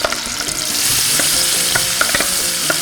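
Onions sizzle and crackle steadily in a hot pot, with occasional stirring scrapes and clinks over the frying hiss.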